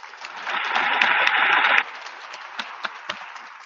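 Brief applause from an audience at an auxiliary officer swearing-in ceremony, a dense wash of clapping lasting about a second and a half, then fading to a few scattered claps.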